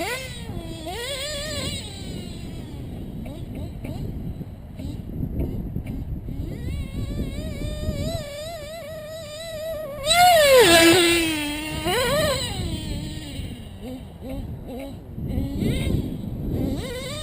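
Reds R5R Team Edition nitro engine running steadily at close range with a high, buzzing whine that wavers in pitch and swells in a sharp rev near the middle, under a talking voice throughout.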